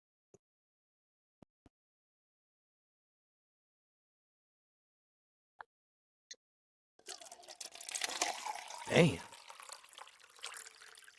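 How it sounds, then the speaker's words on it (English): A drink is poured after a stretch of near-silence with a few faint clicks, bringing a close, continuous liquid splash and gurgle that swells and then trails off while a voice briefly speaks. "That's a good pour right there."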